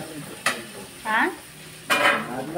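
Tomatoes roasting in a pan for anda bhurji, a faint sizzle beneath a few sharp scrapes and clinks of a utensil against the pan, spaced irregularly and close by.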